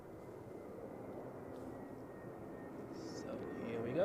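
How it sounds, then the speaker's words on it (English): An EasyJet Airbus A320 from Porto lands at Zurich Airport in crosswinds, a steady distant engine roar that swells slightly toward the end. "we have the next aircraft on final, which is EasyJet, an A320 from Porto"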